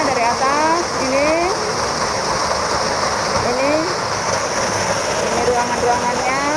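A waterfall pours from above into a broad, constant roar of rushing water, loud and close, while someone talks over it throughout.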